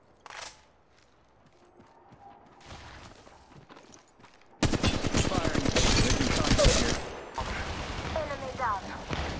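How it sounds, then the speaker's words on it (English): Gunfire in the mobile battle-royale video game Apex Legends Mobile, with loud rapid bursts of automatic fire in a dense crackling volley, preceded by quieter scattered shots and game sounds. "Getting shot at."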